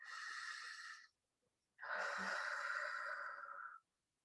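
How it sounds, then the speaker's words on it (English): Two long, deep breaths drawn close to the listener during a calm relaxation meditation, each a steady, airy rush lasting a second or more, with a short silence between them. "take a deep breath in."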